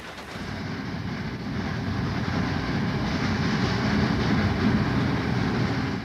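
Southern Pacific Overland passenger train, helped by a 482 MT2 locomotive, rolling downgrade from snow country at Troy, a steady low rumble of wheels and cars building slightly in loudness, heard at a moderate distance without voices.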